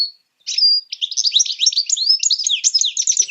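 A goldfinch sings a rapid, continuous run of bright twittering chirps and short warbled notes after a brief opening whistle, close and clear with no other sounds.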